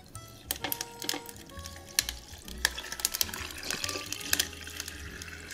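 Carrot apple celery agua fresca poured slowly from a container, a close liquid splashing and trickling with uneven bursts and clinks, and faint background sounds throughout.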